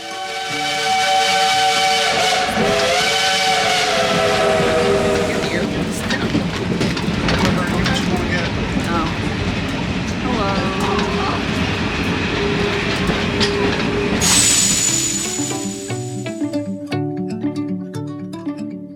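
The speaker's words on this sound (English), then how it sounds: "the steam locomotives are the same kind of Shea locomotives used in Cass during the early 1900s" A coal-fired Shay steam locomotive on a West Virginia tourist line rumbles and hisses steadily up close, then sounds a loud, sustained whistle near the end as the running continues underneath.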